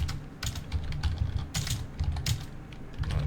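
Rapid, uneven clatter of computer keyboard typing, close and fairly loud, with bursts of keystrokes and short pauses, no speech.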